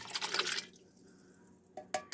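Liquid from canned vegetables is poured into a soup pot along with the vegetables. A splashy, bright pour is heard at first, then it fades to a quiet trickle, followed by a couple of sharp clinks of a can against the pot.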